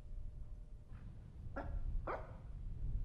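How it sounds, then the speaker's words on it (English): A dog barks in a horror video game, two sharp barks about half a second apart after a faint first yip, moderately distant over a low background hum, no talking. "Do I hear the dog up here?"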